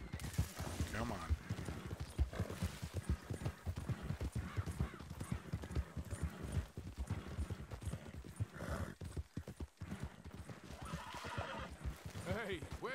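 Horse hooves clip-clop steadily close by, with a horse neighing and people talking and calling out over the hoofbeats.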